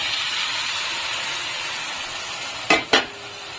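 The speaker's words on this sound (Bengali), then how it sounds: "এখন আমি এর মধ্যে দুধ জাল করে রেখেছিলাম ওই দুধটা দিয়ে দিচ্ছি" Milk poured into lightly fried coconut in a hot pan, giving a steady close sizzle throughout, then two sharp stirring scrapes near the end.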